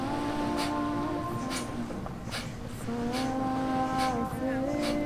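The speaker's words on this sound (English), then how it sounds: "So the exhales happen in the nose, and you're pumping your belly back towards your spine" Quick, forceful breaths pushed out through the nose, repeated in a steady pumping rhythm over a sustained droning tone.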